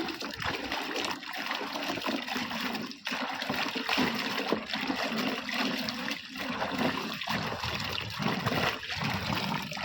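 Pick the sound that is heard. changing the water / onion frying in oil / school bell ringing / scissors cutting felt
changing the water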